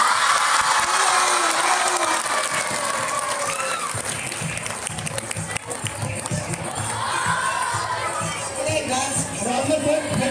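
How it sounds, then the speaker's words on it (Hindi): A school farewell audience applauds loudly, a dense, sustained wash of clapping and cheering from a large crowd of students, with voices mixed in. "एक बार जोरदार ताली बजा दीजिए"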